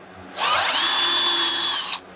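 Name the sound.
power drill drilling a pilot hole in wood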